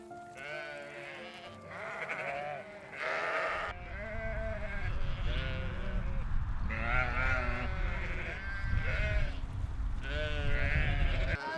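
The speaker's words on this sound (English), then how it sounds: "Deafened by sheep." Sheep bleating loudly on a British farm about a week before lambing, several overlapping calls repeating close by against a noisy barn or field background.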